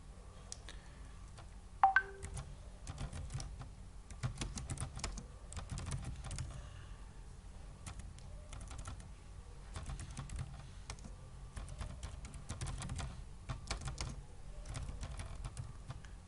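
Computer keyboard typing as label text is entered in a Java graphical program, with quiet, irregular key clicks coming in bursts throughout, close and soft with no talking.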